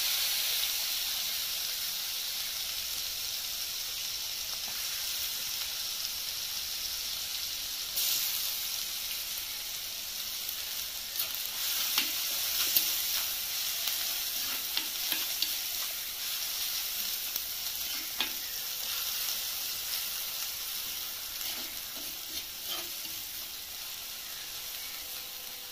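Small onions (shallots) frying in oil for a fish curry, a low steady sizzle and hiss with a few faint stirring taps, quiet and close, with nobody talking.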